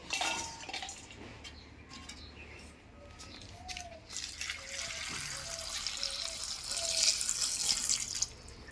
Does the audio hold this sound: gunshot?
no